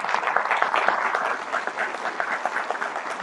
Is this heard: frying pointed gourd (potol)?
no